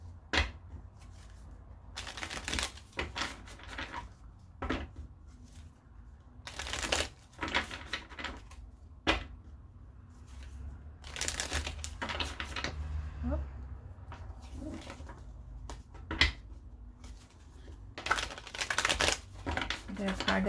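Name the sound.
shuffling tarot cards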